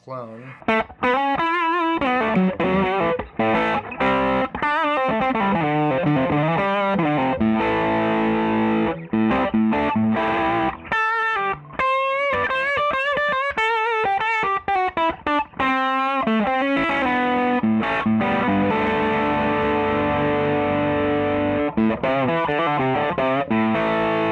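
Loud electric guitar played through an Origin Effects Magma 57 pedal into an amp, playing chords and melodic runs continuously, with a thick, saturated tone throughout.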